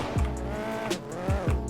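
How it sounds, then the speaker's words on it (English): A car drifts in Roblox Midnight Racing: Tokyo with the e-brake kicking the back end out, engine revving up and down in a steady tone with a few short tire chirps, close and alone. "use the e-brake to kick the back end out"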